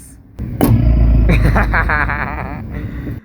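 A deep, low synthesized keyboard note swells and growls for a few seconds, imitating a lion's roar, with a brief sharp click near the start.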